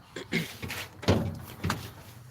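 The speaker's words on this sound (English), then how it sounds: "I ain't opened up this door in a while, so it's gonna be a little loud" An old GM G-body car door is pulled open after sitting unused, giving a loud series of thunks and creaks with a heavy clunk in the middle. No one speaks.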